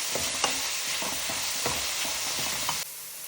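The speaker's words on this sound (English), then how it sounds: "And saute it until it's slightly brown." Sliced coconut sautéing in a pan for a homemade Indian beef curry: a steady, even sizzle with soft stirring scrapes every half second or so, close and continuous until it suddenly cuts off near the end.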